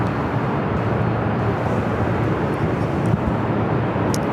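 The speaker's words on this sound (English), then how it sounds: "That was Delta Airlines flight 479, coming in from Boston on that 28-year-old 757-200, originally delivered to TWA" A 28-year-old Delta Boeing 757-200 airliner from Boston landing at LAX, a steady broad engine roar sustained throughout at close range, no voices.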